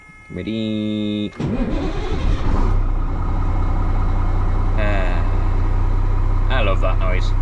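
A Cummins-powered ERF truck with a straight-through 5-inch Eminox exhaust cranks briefly, then fires up and settles into a loud, steady, deep idle close by, with voices talking over the rumble.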